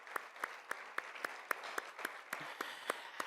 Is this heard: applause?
yes